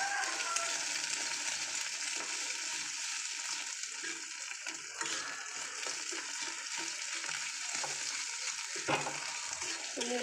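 Onion and egg sizzle steadily as they fry together in a pan, with a spatula scraping and stirring through the constant frying hiss, close and fairly loud, no talking.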